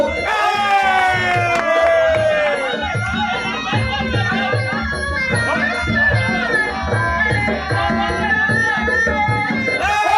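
A crowd cheers and chants through the third round of a Muay Thai fight between Petchnirun and Lertrit. The roar stays loud and unbroken over ringside music, with a commentator talking on top.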